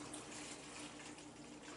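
Tap water pouring into a mixing bowl to fill it about halfway for souvlaki marinade, a quiet, continuous splashing stream heard on its own without talk.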